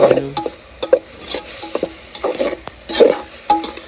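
Chopped onion frying in plenty of oil for a prawn rice tempering, with repeated close scraping and clinking of a spatula against the pan over a light sizzle, in uneven bursts throughout.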